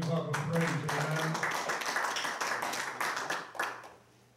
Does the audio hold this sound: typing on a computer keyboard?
no